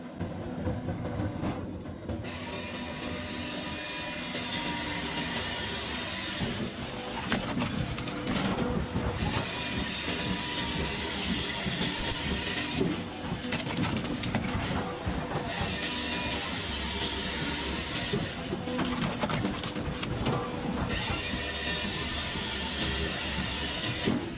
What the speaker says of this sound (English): The REX 600X Firewood Beast vertical log splitter, true to its name, is a powerful,